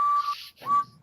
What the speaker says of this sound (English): There's Percy's original whistle.